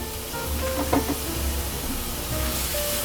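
Defrosted frozen riced cauliflower sizzles steadily in a pan while being stirred for a tofu stir fry, with a constant close frying hiss and a few light scraping knocks from the stirring.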